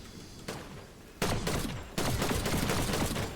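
Gunfire in the Fortnite battle royale, building up in bursts: a short pop, then two loud dense volleys of rapid shots that carry on to the end, with no talking.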